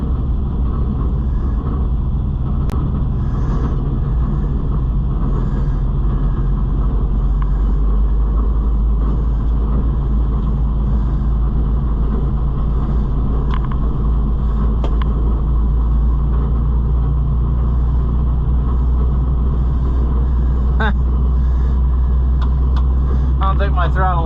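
A John Deere 55 EB combine engine drones in a continuous low rumble while driving, steady and close throughout with faint mechanical rattles on top.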